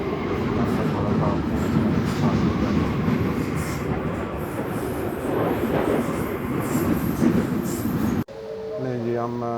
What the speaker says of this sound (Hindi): ये जी northern line train via bank.